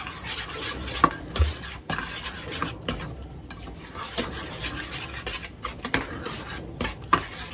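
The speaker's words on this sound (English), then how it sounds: "Give that a bit of a stir" A spoon stirs half a tin of tomatoes into a pan of curry base, giving a steady wet scraping and rasping with occasional clinks against the pan, close and moderately loud.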